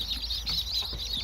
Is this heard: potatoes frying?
no